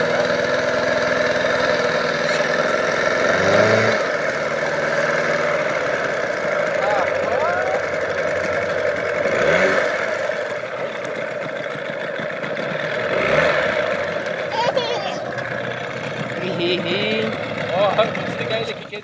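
A small outboard motor on a boat runs steadily at a mid-pitched idle throughout, with a constant droning hum and a few brief water or handling noises. People talk over it.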